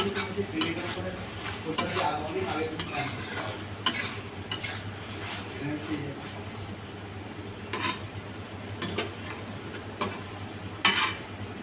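Chicken pieces stir-fried with spices in a pan for chilli chicken, with a steady sizzle under repeated scraping and clinking of a spatula against the pan, close and moderately loud.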